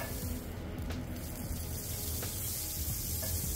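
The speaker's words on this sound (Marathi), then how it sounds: "आता आपण पॅन मध्ये बटर टाकून घेणार आहोत" Butter sizzles in a hot pan while cheese toast is being made, a soft, even hiss that carries on with a few faint clinks and no talking.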